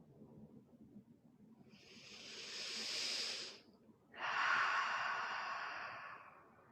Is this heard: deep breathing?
yes